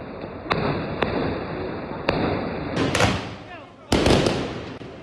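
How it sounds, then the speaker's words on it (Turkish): Several sharp firework bangs go off one after another at an engagement ceremony in a street, some followed by crackling bursts and fizzing, loud and fairly close. "söz merasimi sırasında atılan bir havai fişek"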